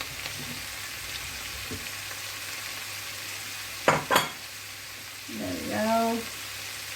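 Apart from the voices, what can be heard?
courgettes and vegetables frying and being stirred in pan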